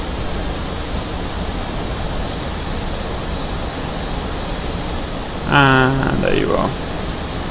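MiG-15bis jet engine in the DCS World flight simulator, a steady loud turbine whine and roar throughout, with a short spoken phrase over it near the end.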